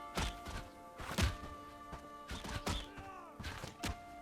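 A bow looses arrows in quick succession in the medieval game Bellwright, a series of soft, dull thunks and twangs spaced about half a second apart over a faint tonal game background.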